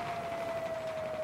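A storm warning siren in Battlefield 4 holds a single steady tone without a break, moderately loud over a dense wash of game ambience.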